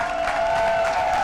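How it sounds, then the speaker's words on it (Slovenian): Employees giving loud, sustained applause to the first customers at an IKEA store opening, a dense continuous wash of clapping from a crowd with faint cheering mixed in. "IKEA-na tradicija je, da prvim obiskovalcem pripravi slavnostni sprejem z glasnim aplavzom zaposlenih."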